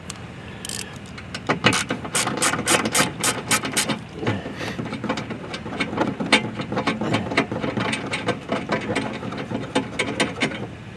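A hand ratchet backs out Torx T27 6mm bolts on a 2019-2023 Alfa Romeo Giulia. Rapid clicking pawl sequences sound up close, in repeated bursts with brief pauses over about eleven seconds.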